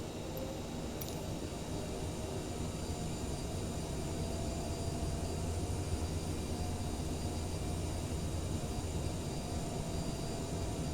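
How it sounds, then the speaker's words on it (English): Steady broadband roar inside the cabin of a CRJ 900 jet airliner on its takeoff roll, a constant engine and rumble drone with no talk, a few faint rattles early on. "the captain has advised that we are now cleared for takeoff"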